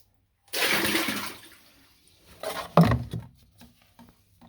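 Water from an overflowing container under a bath pours and splashes in a loud burst, then trickles and spatters more faintly with a few knocks, nearby and with no talking.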